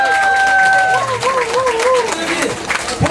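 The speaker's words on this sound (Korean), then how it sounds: "박수!" An outdoor audience in Seoul's Tapgol Park applauds during a 2022 National Foundation Day ceremony, with steady clapping and crowd murmur over a lingering voice at the start.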